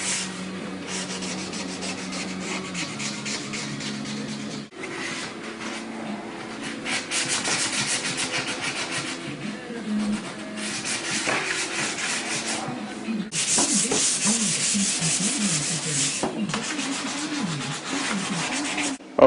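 A car's front body kit is hand-sanded during bodywork and paint prep. Continuous abrasive rubbing comes in long back-and-forth strokes, close and fairly loud, with brief pauses between passes and no talking.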